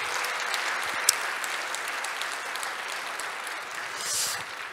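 Steady applause from a church congregation at a revival service, a dense even patter of many hands clapping throughout, moderately loud and without talk.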